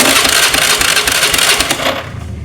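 A motorcycle's electric starter cranks the engine, which has a weak, half-dead spark plug; a close, steady grinding whir runs throughout and tapers off at the end.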